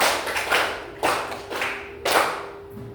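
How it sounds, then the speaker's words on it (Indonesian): Hands clap in short sharp bursts, several quick claps in a loose rhythm, close and fairly quiet, with no talking. "tepuk 5, tepuk 5 kali."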